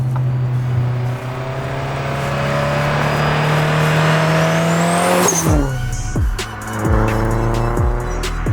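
A big-turbo 500 hp Subaru Impreza STI on E85 with all-wheel drive in its most aggressive mode accelerates hard, engine pitch climbing steadily under a loud, close drone before a sharp gear change and renewed pull.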